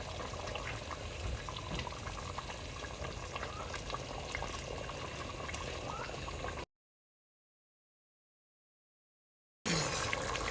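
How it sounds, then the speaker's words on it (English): Milk being poured into frothy, bubbling butter and flour in a pan for a vegan lasagna sauce, a steady broadband pouring and sizzling hiss at moderate level, cut off by a gap of silence before resuming briefly. "Go ahead, Mason, pour the milk in."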